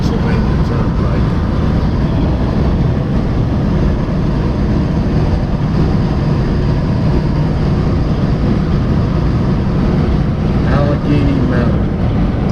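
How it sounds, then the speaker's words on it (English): A vehicle drives through the Allegheny Mountain tunnel on the Pennsylvania Turnpike, giving a loud, steady, enclosed road roar and wind rush with no break. "Coming into what I believe is the longest tunnel on the Pennsylvania Turnpike."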